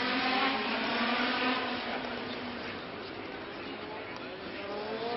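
A 1974 Lotus Formula 1 race car screams around the Monaco street circuit, a high buzzing engine whine held steady with a shifting pitch, heard with a faint broadcast quality.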